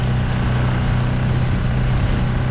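A fishing skiff with a Mercury outboard motor cruises on open water, the motor's steady drone loud and close with wind and water rushing past, no talking.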